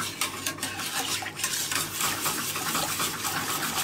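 Boiling water from a kettle poured gradually into flour in a pot, giving a steady wet stirring and sloshing with light clinks of utensil against the pot, close and continuous, with no talking.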